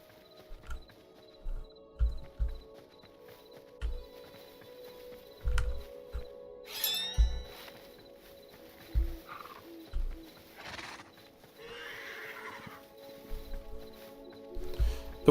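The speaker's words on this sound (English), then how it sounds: "The horses aren't supposed to panic and run," Horses in Hytale panic and gallop off, their hooves thudding in uneven clusters of soft, low beats, with a brief whinny-like cry partway through amid faint ambient game sounds.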